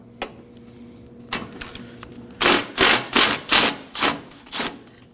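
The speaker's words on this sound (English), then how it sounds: "Using a 10mm socket, go ahead and take that out." A 10mm socket ratchet turns a headlight bolt out of a 2017-2024 Nissan Armada, giving a run of about seven sharp, close clicking bursts in steady rhythm after a few lighter taps, with no talking.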